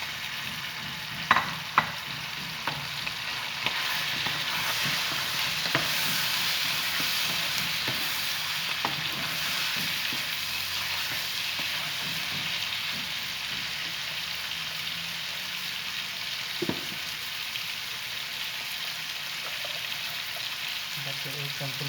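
Chicken pieces added to a pan of browned garlic for chicken makhani, frying with a constant sizzle and repeated stirring clatters against the pan, a few sharper knocks early on, close and steady with no talk.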